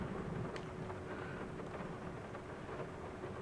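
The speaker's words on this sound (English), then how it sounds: "Just rain as usual." Steady rain falls on a UK farm near a Kubota plough and tractor, a continuous hiss with a low rumble underneath, no voices.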